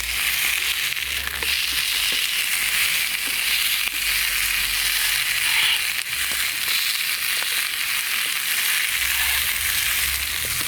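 Jerk stir fry sizzling and crackling in a pan over an outdoor twig stove, a steady loud fry that holds throughout with occasional stirring scrapes and no talk.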